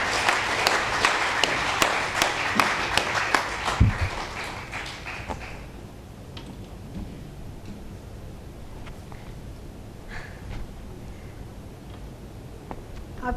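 Audience clapping at a monthly Hindi poetry gathering, strong for about four seconds before it dies down to a quiet room with scattered small taps and faint background noise.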